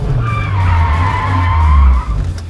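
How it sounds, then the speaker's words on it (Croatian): A car skids through a handbrake turn, its tires squealing loudly in a long, wavering screech over a deep engine drone before it cuts off near the end. It is close and loud, with no talk. "Kreni auto pod ručnom."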